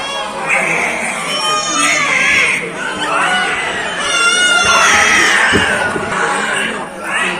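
Babies cry on a Ramlila stage during the birth scene at Shri Badrinath temple, Bahadurgarh: loud, wavering infant wails repeat throughout, mixed with crowd noise and voices.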